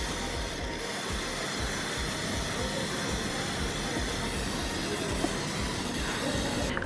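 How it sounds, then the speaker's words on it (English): WD-40 sprayed onto the grimy chain of a Royal Enfield Interceptor 650 motorcycle, giving a continuous, even hiss that runs close and steady for several seconds. "I can actually use WD-40 and clean this."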